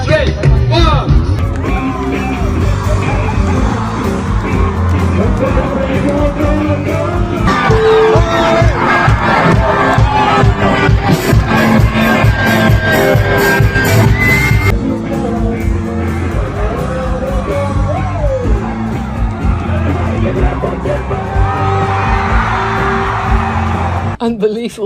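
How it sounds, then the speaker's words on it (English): A wildly excited crowd at a sailing fleet's festival on a stage cheers, yells and whoops continuously and loudly, drowning out the music being played. "You can hardly hear what song they are singing and the whole crowd was crazy."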